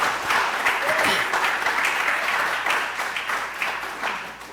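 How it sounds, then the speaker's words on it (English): An audience at a symposium event applauds for an organizer with sustained, dense clapping that holds steady and then fades slightly toward the end. "Let's give her a round of applause"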